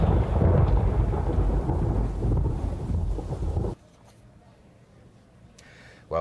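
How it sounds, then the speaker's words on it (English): A thunderstorm of heavy rain and rumbling thunder roars loud and dense for several seconds, then cuts off abruptly to near quiet, with a short sharp sound at the very end. "'Cause the storm is coming through."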